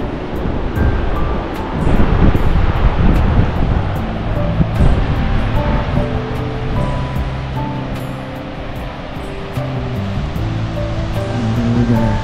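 Surf breaking at Eden Beach on a rocky east coast shoreline, a steady loud wash of waves with wind buffeting the microphone throughout, no voices.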